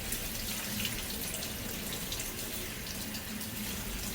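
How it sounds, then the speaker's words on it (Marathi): Running tap water pours steadily over poha flakes being gently rinsed in a sieve, a constant close splashing hiss without pauses or voices. "दोन ते तीन वेळा पोहे हळूवारपणाने किंवा हलक्या हाताने धुवून घ्यायचे"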